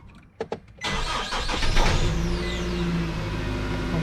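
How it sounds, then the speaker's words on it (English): A 2010 Nissan Frontier SE pickup cranks and fires up loud and close, a few short starter pulses giving way to a steady idle that holds on alone without voices. "So I'm gonna start up the vehicle."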